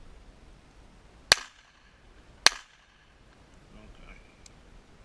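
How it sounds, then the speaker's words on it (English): Two sharp, loud gunshots fired into mud with no silencer ring out about a second apart, each followed by a short decay, with faint background noise between. "I'm going to take the silencer off, give you an idea what it sounds like. I'm going to shoot some in the mud first."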